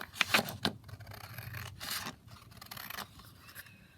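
Scissors cut through paper card for a men's birthday card: a few quick snips followed by a softer rasping slide through the card, close and quiet.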